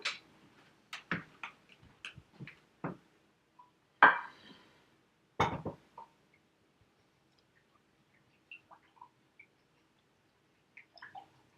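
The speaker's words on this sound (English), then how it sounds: "I'm just going to grab my whisk and whisk this all together" A whisk beats ingredients together in a bowl with a few sparse, sharp clinks and taps at uneven intervals, louder early on, then fading to faint scattered ticks.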